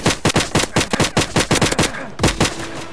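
Loud, close volleys of rapid gunshots in the Roblox game PowerUp, a fast burst of a dozen or so shots, a brief pause, then a few more shots.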